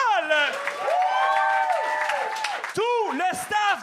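Applause and cheering from a comedy show audience fill the room, with a host's voice calling out loudly over the ongoing clapping throughout.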